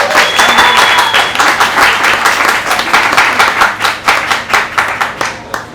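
An audience at a literary talk and reading claps in loud, close applause that starts dense and gradually thins into separate claps before fading out.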